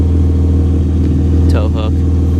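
A JDM seventh-generation Honda Accord V6 idles warm after startup, a loud, steady low engine hum close to the microphone, with a brief voice cutting in over it.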